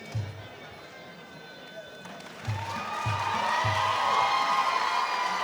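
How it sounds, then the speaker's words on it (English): Crowd at a Rebellion Muaythai fight breaks into cheering and applause that swells and stays loud, following a few heavy thuds at the start, with a busy arena background. "Crowd applauds"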